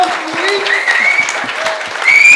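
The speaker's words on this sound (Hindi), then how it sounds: "शानू जी के लिए जोरदार तालियां हो जाएं" Audience applause at a poster launch event: a dense, steady burst of clapping from a roomful of people, continuous for about two seconds and swelling slightly at the end, with a few faint tonal whistles over it.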